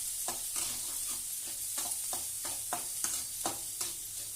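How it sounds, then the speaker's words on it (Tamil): Green chilies and onions are sautéed in a pan for a snake gourd stir-fry, with steady rhythmic spatula scrapes about twice a second over a continuous close sizzle, and no talking. "இப்போ வந்து நம்ம பச்சை மிளகா போட்டு அதுக்கப்புறமா திருப்பி வந்து கொஞ்சம் வதக்கி விட்டுடலாம்."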